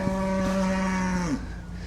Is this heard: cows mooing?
yes